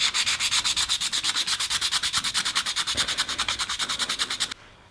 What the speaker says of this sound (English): after I'm done sanding, I'm just going to wipe off the excess powder